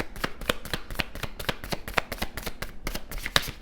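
Tarot cards shuffled by hand in a steady run of quick riffling flicks, close and crisp, with no voices.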